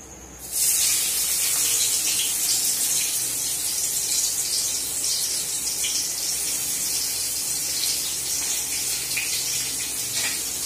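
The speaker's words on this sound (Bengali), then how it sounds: "এবার আমি একই তেলে কোচানো পেঁয়াজ দিয়ে দেব।" Sliced onions dropped into hot oil left over from frying paneer, hissing into a bright, steady sizzle that carries on evenly throughout.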